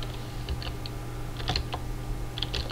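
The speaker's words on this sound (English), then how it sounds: "And we type in" Keys clatter on a computer keyboard in short irregular bursts of clicks, close and moderately loud, while text is entered into Photoshop CS5 for a CD cover design. Nothing else is heard.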